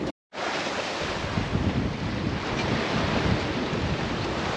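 Sea waves and strong wind heard from a sailboat on the open sea, a dense continuous wash of surf with heavy wind buffeting the microphone, steady and close with no voices.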